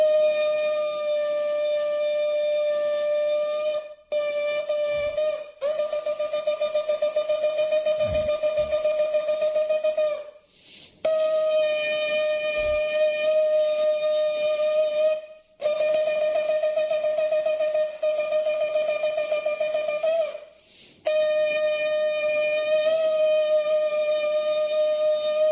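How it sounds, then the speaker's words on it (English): A ram's-horn shofar sounded in temple for Rosh Hashanah after the Torah reading, with long, loud, steady blasts broken by a few short pauses and no voices. "This is the sound of the shofar"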